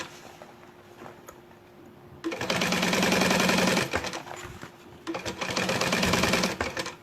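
A sewing machine stitches the main bellows fabric of a sublimation-printed bag to its lining in two bursts of rapid, loud mechanical chatter, each about one and a half seconds, separated by a quieter pause.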